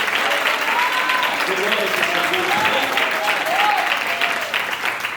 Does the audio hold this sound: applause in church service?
yes